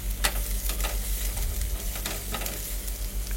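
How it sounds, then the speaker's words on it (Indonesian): Garlic, shallots and chili sautéing in two tablespoons of cooking oil, giving a steady close sizzle broken by repeated scraping stir strokes in the pan. "Masukkan 2 sendok makan minyak goreng, tumis bawang putih, bawang merah,"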